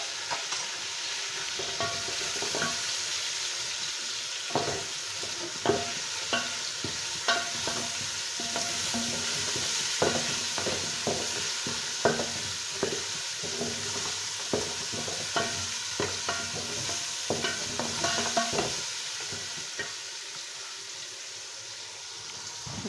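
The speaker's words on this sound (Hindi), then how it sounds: "हाफ केजी ये मटन है, ये डालकर इसे भूनेंगे।" Half a kilo of mutton frying in a pot, a dense steady sizzle with regular scraping stirs spread through the whole stretch, close and fairly loud.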